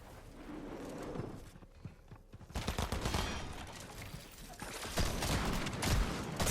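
Video game gunfire rings out in several rapid bursts and single shots, with quick clattering steps between volleys, loud and close over steady background game noise.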